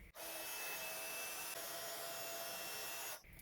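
A heat gun blows with a steady, close whooshing hiss for about three seconds, switching on and cutting off abruptly while melting embossing powder on a card.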